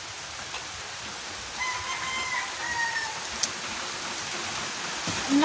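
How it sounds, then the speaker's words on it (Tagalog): Soft, steady rain hiss at a distance, with a faint bird call rising partway through and no talking. "Umuulan guys. Sakto pagdating ko dito umulan."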